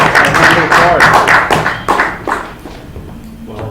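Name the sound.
audience applause for the speaker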